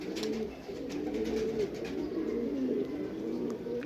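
A Teddy breed pigeon coos close by in a soft, continuous rolling series of low coos, with no one speaking.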